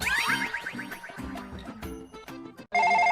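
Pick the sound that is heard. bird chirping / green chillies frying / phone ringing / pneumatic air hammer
phone ringing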